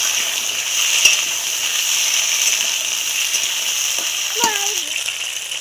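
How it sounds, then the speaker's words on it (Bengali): Taro and potato pieces frying in hot oil for a taro and meat curry, a steady bright hiss of bubbling oil with a couple of brief clinks and a short voice near the end. "তেলটা গরম হয়ে গেছে এবার আমি কচু আর আলুটা দিয়ে দিয়ে কিন্তু সুন্দর করে ভাজতে হবে কচু আর আলুটা"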